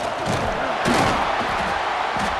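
Stadium crowd at a college football game, Texas Tech at Oklahoma State, roaring and cheering on 2nd down, a broad continuous wall of noise with a swell near the one-second mark and no clear voice above it.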